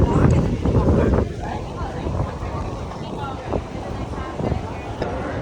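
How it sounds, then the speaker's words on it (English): Strong Santa Ana wind in Anaheim buffets the microphone in low rumbling gusts, heaviest at the start, with faint speech-like sounds underneath. "the Santa Ana winds are up in high gear right now. It is fairly windy right now."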